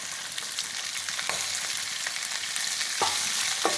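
Beans, potato, carrot and green chili being sautéed in oil, giving a constant close frying hiss with a few sharp spatula scrapes and taps on the pan, no talking.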